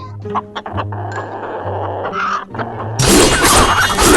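Clucking hen calls from a video game repeat in short bursts, then a sudden loud burst of bright, noisy crashing takes over near the end.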